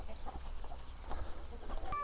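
Faint, scattered clucks from a black hen and her chicks nearby, soft and irregular over quiet background noise.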